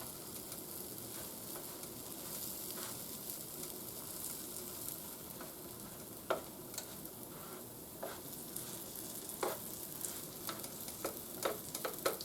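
Banana pancakes cook in a Tefal non-stick pan with a steady, quiet sizzle, broken by occasional light scrapes and clicks of a utensil, with no talk.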